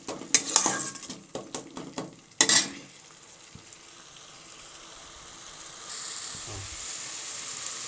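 Masala is stirred and fried in a pan for a soybean, boiled egg and potato curry: sharp metallic scrapes and clinks of a spoon come first, then a steady soft sizzle continues alone.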